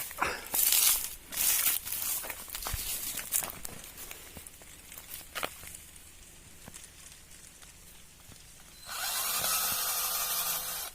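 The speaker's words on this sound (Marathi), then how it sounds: "हे बघा आता मशीनने होल पाडू" A power drill bores holes in a plastic water pipe for garden irrigation, with two short whirring bursts at the start and a longer steady whine near the end, separated by clicks, handling noises and faint movement.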